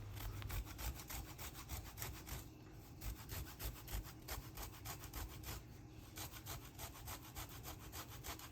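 A washed lemon is zested against a grater in steady, rhythmic rasping strokes, close and quiet, repeating evenly for several seconds with no voices.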